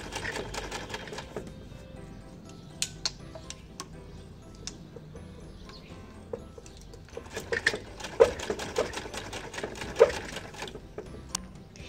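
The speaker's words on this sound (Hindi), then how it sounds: "अब हम इसको सिलाई लगाएंगे।" A sewing machine runs steadily, stitching a one-inch fabric strip onto a dupatta, with a continuous mechanical whir and rapid ticking that grows louder toward the end, no talk over it.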